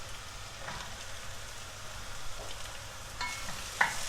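Onion and peppers frying in a pan while being stirred, a steady soft sizzle with faint scraping of the stirring utensil and a few light clinks near the end.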